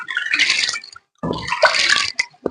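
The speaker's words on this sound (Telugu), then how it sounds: "ఇలా మంచిగా ఒక త్రీ టైమ్స్ వాష్ చేసుకోండి ఈ విధంగా వాటర్ పోసేసుకొని" Water is poured in two splashing bursts over chana dal in a pressure cooker to wash it, with a brief pause between pours and a few light clinks at the end.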